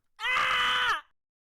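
A single sharp scream of about a second, loud and close with clean silence around it, comes from the video game WILL: A Wonderful World. No smashing mug is audible.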